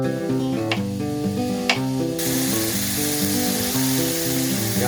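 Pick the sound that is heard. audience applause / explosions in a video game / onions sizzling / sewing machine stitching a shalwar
onions sizzling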